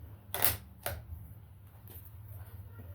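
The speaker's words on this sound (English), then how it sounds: "Put the old bolt in there." A rifle bolt is slid into the action and locked shut, giving two sharp, close metallic clacks about half a second apart, followed by quiet room tone.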